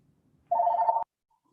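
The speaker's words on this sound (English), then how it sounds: "I've got a home phone." A single short burst of a home telephone ringing, about half a second long, clear and close in an otherwise quiet room.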